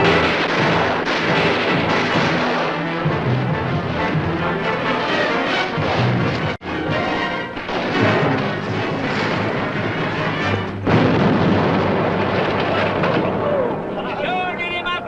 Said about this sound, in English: All right, start shooting.